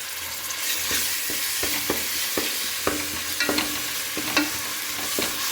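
Ground masala paste frying in hot oil for vegetable pulao, a steady bright sizzle with scattered pops and stirring scrapes, close and continuous with no talking.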